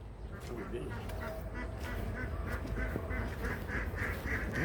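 Hungry ducks waiting to be fed on a rainy-day rooftop garden quack in a run of repeated, nasal calls that grow quicker and louder toward the end, over a steady background rumble.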